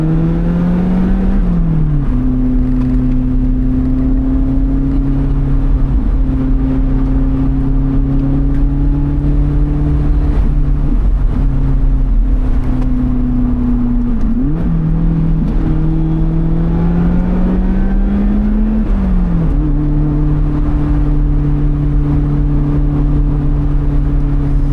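A 2020 Lotus Elise Cup 250 drives through corners on a spring road, its engine droning steadily from inside the car, easing off and climbing again with several gear changes, loud and continuous with no voices.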